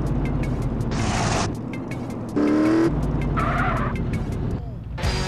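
Vehicle engine revving and tires screeching during a wheelie stunt in the video game GTA San Andreas, loud bursts of screech and engine roar over a steady game soundtrack with repeated clicking beats.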